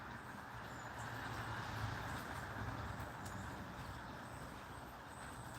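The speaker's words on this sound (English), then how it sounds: "can hear the train too." A distant train passing near an outdoor walking route, heard as a faint, steady low rumble that holds throughout with no one talking.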